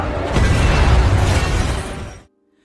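A film gunshot bursts into a loud, rumbling blast with debris clatter aboard a submarine, sustaining for about two seconds before cutting off to silence.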